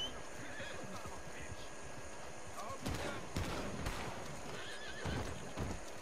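A horse in a video game whinnies and neighs amid clip-clopping hooves and scattered gunfire, with players talking over it.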